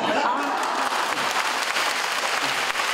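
An audience at a Tzu Chi gathering with actors and volunteers on stage claps in sustained, even applause, loud and close, for a few seconds.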